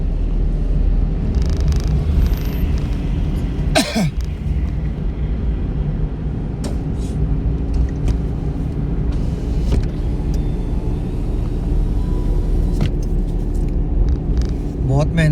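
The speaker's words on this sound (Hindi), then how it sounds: "पूरा क्लच दबाओ, लगाओ सेकंड, छोड़ दो क्लच को," A car engine rumbles steadily in second gear along a rough, dangerous road, with low droning and occasional knocks and clatters throughout, while a person talks over it.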